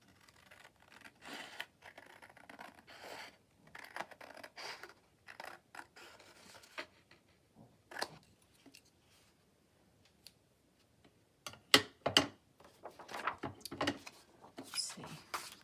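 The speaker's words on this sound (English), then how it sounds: "I'm going to cut off this edge first." Paper or card tag base being trimmed along its edge with scissors, giving short bursts of snipping and rustling scattered across the stretch, close and fairly quiet, with pauses between cuts.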